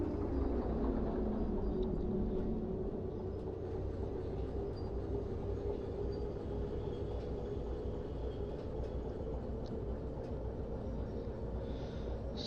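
A locomotive pulling five cars in the train simulator game Derail Valley rumbles steadily with a continuous low engine drone and faint rail noise, moderately quiet and unbroken.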